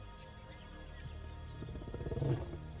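A big cat roars in the wild, a series of deep, rhythmic grunting roars that build and grow louder over a low background rumble, with no speech.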